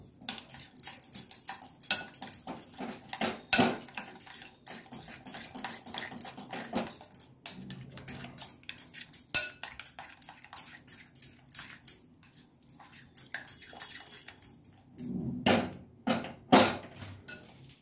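A spoon clinks and scrapes around a bowl, working grated ingredients and kasuri methi into sour curd, in an irregular run of close, moderately loud strokes without speech.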